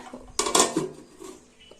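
A lid set down on a cooking pot of keema kuzhambu: one bright metallic clatter with a brief ringing rattle, close by, followed by quiet.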